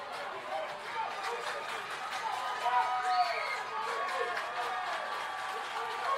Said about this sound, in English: You're hearing crowd noise from the adjoining field